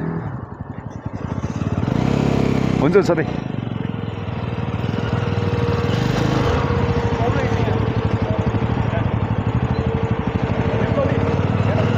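A motorcycle idles nearby as it is parked, a steady low rumbling throb running throughout, with a brief rev and people talking over it.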